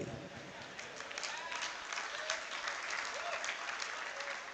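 Audience applause at an alumni-meet poetry recitation, a dense, steady wash of many hands clapping from start to finish with no talking over it.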